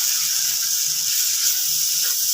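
Tomato masala sizzling and frying in a pan for a restaurant-style fish katakat, a steady soft hiss with light bubbling throughout, fairly close and without any talking.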